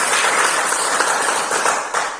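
Classroom applause from students at a school lesson, a steady burst of many hands clapping together, moderately loud and continuous for a couple of seconds, fading slightly near the end.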